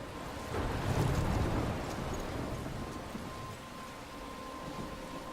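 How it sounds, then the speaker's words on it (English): A thunderstorm in Life is Strange, with steady rain hiss and a low rolling rumble of thunder swelling early, then easing into a constant wash of storm noise. "I'm trapped in a storm?"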